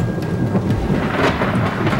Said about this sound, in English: You want to stay inside until the storm's past.